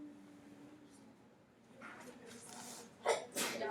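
A sneeze or two bursts in a quiet indoor conversation, with a louder sharp burst near the end following a softer breathy one, fairly close and with no talk over it.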